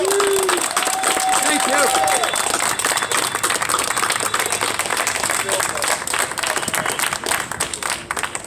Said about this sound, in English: Give yourselves a round of applause for showing up here today.